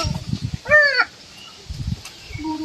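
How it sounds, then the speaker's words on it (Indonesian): A maleo bird at a Bali bird park lets out one loud, nasal, wavering call lasting under a second, close by, with low background thumps and murmurs before and after. "Burung maleo."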